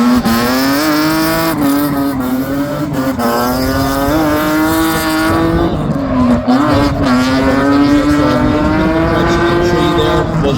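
A BMW E46 drift car at Bishopscourt race track screams at high revs with a steady, loud engine note that rises and dips through the lap, tire squeal mixed in, continuous and close throughout.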